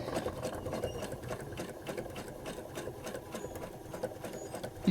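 Domestic sewing machine stitching along the outline of a quilt block, a steady, close whirring hum with a fast rhythmic stitch patter throughout, running alone without speech.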